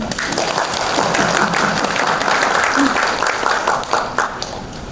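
An audience at a lecture applauds with a loud, crowded patter of hands that runs steadily for several seconds, then thins and tapers off near the end, with a voice briefly showing through.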